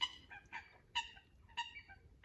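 A duck quacks repeatedly beside a carp fishing lake at Bluebell Lakes, with loud nasal calls in uneven bursts over quiet outdoor background.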